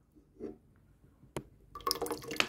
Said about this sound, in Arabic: حطيت شوية مية في الخلاط